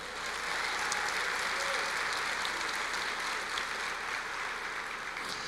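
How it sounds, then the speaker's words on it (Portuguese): Steady applause fills a church service, a broad, even wash of many hands clapping continuously at moderate volume without pause. "Dê uma salva de palmas ao Senhor"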